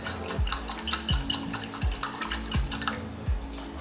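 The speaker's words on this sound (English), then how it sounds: "Then I'm going to take a chopstick and mix it all up." A chopstick stirs vanilla iced coffee in a glass before the ice goes in, knocking against the sides in about five quick, rhythmic clinks and swishes before stopping, close and clear with no talking.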